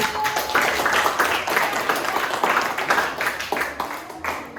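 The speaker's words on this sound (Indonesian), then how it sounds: "tepuk tangan dulu" Students in a classroom clap together in dense, steady applause for several seconds, fairly close and lively, with no speech over it.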